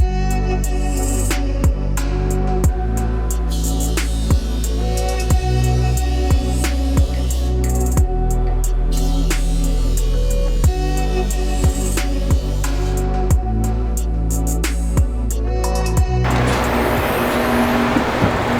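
A grinder sharpens the bed knife of a golf course reel mower, giving a steady, loud motorized drone with regular ticking passes that runs throughout, with no talking.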